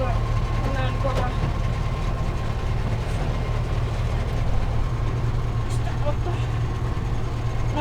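The diesel engine of a Kirovets K-700 or K-701 tractor runs steadily at idle with a deep, constant low rumble throughout, loud and close, with occasional faint clanks on top.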